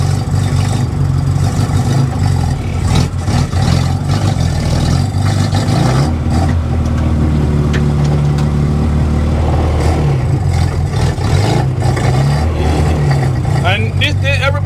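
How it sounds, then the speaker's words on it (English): Carbureted 1380 engine of a 1972 Mini race car with straight-cut gears, heard from inside at a loud, steady drone that swells and eases with throttle changes, while people talk over it. "I guess we hear the sweet sounds of the carburetor"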